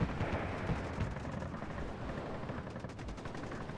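Dense, sustained gunfire and machine-gun bursts in a real-time battle in the game WARNO, a continuous rattling fusillade with sharper cracks early on, loud and steady with no voices.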